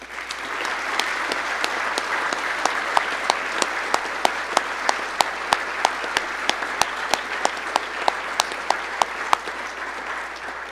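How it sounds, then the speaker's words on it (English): A banquet crowd honouring the senior players of a college football team claps steadily and loudly for about ten seconds, a dense even patter with a few sharp individual claps standing out near the front. "So let's give them a round of applause."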